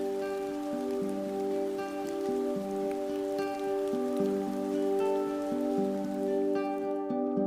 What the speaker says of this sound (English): there are places on Earth where the rain never ends.